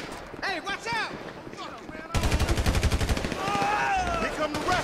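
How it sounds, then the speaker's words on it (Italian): Rapid automatic gunfire in GTA 5 erupts after a stretch of voices, a steady stream of sharp, evenly spaced shots rattling loudly with voices still audible underneath. "stavo sparando a Trevor"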